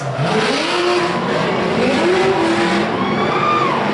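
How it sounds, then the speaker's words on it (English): A V8-swapped Nissan race car engine roars and revs continuously on a banked track, the pitch rising and falling as it passes, with a constant wash of crowd and track noise. "Nate Snyder setting it high up on the bank, another V8 swap, Nissan."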